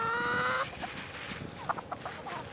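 Chickens cluck and call near at hand on a homestead as they are fed corn, a loud harmonic call at first followed by scattered softer clucks.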